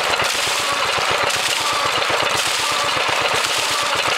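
A vintage Buzacott 2 HP stationary engine, slightly smoky, runs steadily close by with a fast, even chugging beat throughout, loud and alone.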